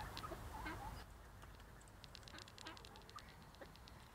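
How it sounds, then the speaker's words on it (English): Ducks at the seaside give a few soft, scattered quacks and clucks, faint and somewhat distant against a quiet outdoor background, with no one speaking. "Here you can see the ducks in their natural habitat."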